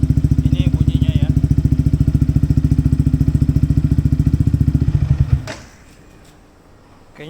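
A Yamaha XSR 155 motorcycle fitted with an R9 Retro exhaust runs with a loud, steady pulsing engine note for about five seconds, then cuts off sharply into near silence.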